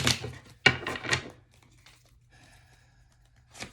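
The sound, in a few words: shuffling tarot cards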